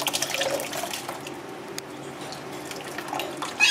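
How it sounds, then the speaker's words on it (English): Grated coconut mixed with water is squeezed by hand to press out coconut milk, giving a close, steady wet trickling and splashing of liquid into a bowl with no talking. "she's just squeezing out all that liquid"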